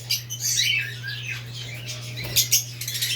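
Small cage birds chirp and tweet in a busy, overlapping chatter, with bright bursts near the end over a steady low electrical hum.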